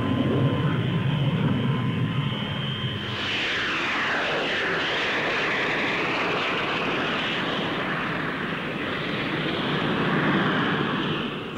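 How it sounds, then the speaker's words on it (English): A Folland Gnat 1 lightweight supersonic fighter jet at the 1955 Farnborough Air Show, a loud sustained engine roar that swells and shifts pitch as it passes overhead and keeps rumbling. "Squadron Leader Tennant prepares to take up the Folland Gnat 1"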